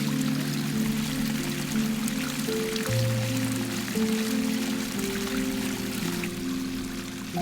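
Continuous splashing trickle of water falling into a small pool, even and unbroken, with a faint steady hum underneath.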